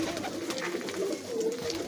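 Pigeons coo with soft, low, rounded calls, several birds close by and overlapping steadily.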